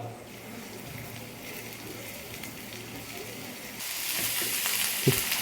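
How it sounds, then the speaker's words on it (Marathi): Finely chopped garlic, about a spoonful, frying in hot oil in a pan, with a steady low sizzle that turns into a brighter, louder hiss partway through, and a faint clink near the end. "1 चमचा लसूण आपल्याला बारीक चॉप करून फ्राय करून घ्यायचा आहे थोडासा"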